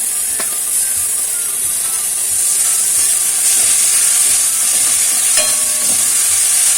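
Garlic and onion paste fries in oil in a pan, giving a loud, steady hiss and sizzle with occasional stirring scrapes and no talk.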